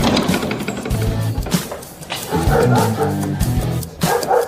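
A dog barking sound effect on a radio show, with repeated close, loud barks and yips in quick bursts, some layered over a music bed.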